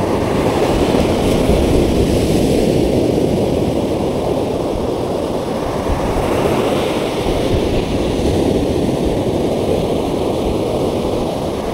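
Ocean waves break steadily on a beach, a loud, continuous roar of surf with wind buffeting the microphone and no distinct gaps between breakers.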